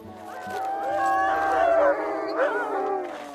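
Several dogs in Saguenay–Lac-Saint-Jean howl together, their overlapping wavering cries rising and sliding for a few seconds at close to moderate distance, with a voice in the background.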